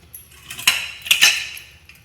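A metal pot inside a pressure cooker gets its lid, with a few sharp clanks and scrapes of metal on metal, close by and separated by short pauses.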